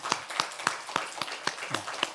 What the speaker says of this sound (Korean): 우리 박수로 한번 축복하시겠습니다.